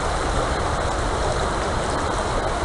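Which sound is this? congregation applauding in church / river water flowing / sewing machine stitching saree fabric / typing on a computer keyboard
river water flowing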